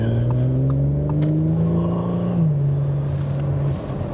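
A steady engine drone heard from inside a 2017 Audi S5 coupé on a motorway, its pitch climbing gradually then stepping down as the gear changes, with road and wind noise throughout.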